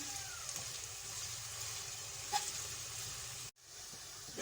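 Chopped onions fry in oil toward golden brown with a steady, soft sizzling hiss that cuts out briefly near the end, and no one speaks.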